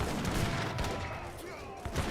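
Musket and cannon fire from an Age of Empires 3 battle, where heavy cannon and musketeer units clash: a dense, continuous crackle of volleys and booms that stays loud throughout, with a voice faintly underneath.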